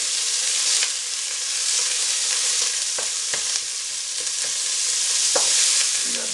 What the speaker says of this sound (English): We got this meat browning here nicely